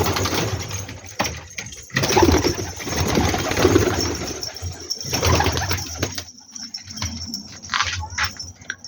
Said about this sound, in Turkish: Evet şimdi uçan kuşlarımızı tekrar dışarı alalım